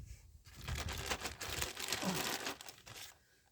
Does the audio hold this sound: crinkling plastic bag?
yes